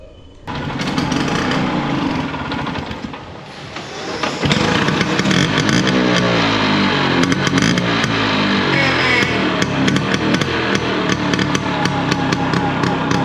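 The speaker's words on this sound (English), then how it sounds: "Listen to the exhaust." A restored Piaggio Vespa 150cc VBA scooter catches after a kick start and its engine runs close and loud through the exhaust, a rough, rapid, pulsing putter that steadies into a continuous idle.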